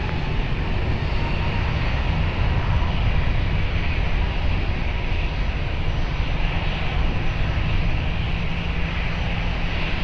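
A jet airliner at Lisbon Airport roars steadily during takeoff or landing, a loud, continuous broadband engine rumble that holds for the whole stretch without talk.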